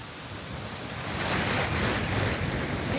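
Broad, steady roar of fast-flowing river current near a waterfall, loud and close, swelling slightly after the first second and holding constant with no voices.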